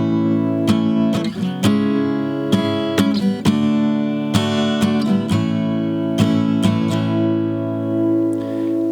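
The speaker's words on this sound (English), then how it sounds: "we're just strumming down, down, down, up" An acoustic guitar strums the chords of a song in a down-down-down-up pattern, clear rhythmic strokes ringing close and alone.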